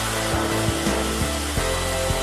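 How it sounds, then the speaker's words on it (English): Ocean Avenger CNC beam drill line working on steel beams gives a steady, loud industrial drone with rhythmic mechanical thumps as the machine processes pieces in sequence, with no voices. "the machine will process each piece in sequence, automatically detecting the next one"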